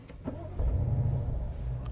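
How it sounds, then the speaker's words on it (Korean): A BMW M850i Gran Coupe engine, already warm, cranks and catches, settling into a steady low rumble close by, with no voices. "냉간시가 아니기 때문에 이런 식으로 엔진이 켜지는데"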